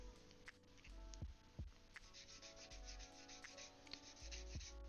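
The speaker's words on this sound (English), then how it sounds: "sanding is a good option here" Sandpaper rubbing on a plastic Gunpla model kit part, a steady scratchy friction of repeated strokes heard up close with background music and no talking.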